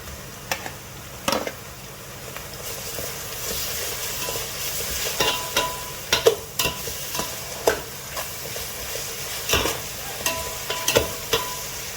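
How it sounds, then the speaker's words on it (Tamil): Onions, ginger and garlic fry in a pan for green mutton biryani, stirred steadily so a constant sizzle carries irregular scraping and clinking of the spoon against the pan, close and clear with no talk. "நல்லா இந்த இஞ்சி பூண்டு வாசனை போகிற வரைக்கும், வெங்காயம் நல்லா கோல்டன் ப்ரௌன் ஆகிற வரைக்கும் நம்ம நல்லா ஸ்டர் பண்ணிகிட்டே இருக்கணும்"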